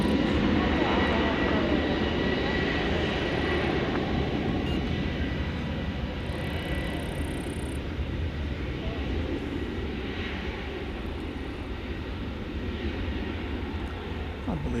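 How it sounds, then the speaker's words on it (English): An American Airlines Airbus A321neo takes off at Dallas Fort Worth airport after dark. A continuous broad engine roar stays steady and loud, easing slightly over the span, with faint background voices under it. "American Airlines Flight 2620 to Portland, Oregon, and Airbus A321"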